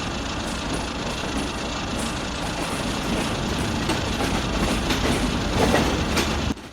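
The rake of the Parabat Express shunts through Kamalapur station with a loud, continuous rolling rumble, wheels clattering over rail joints, before the noise drops suddenly at the end.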